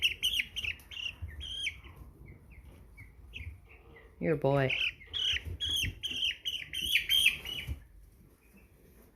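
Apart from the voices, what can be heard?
American Bresse chicks chirping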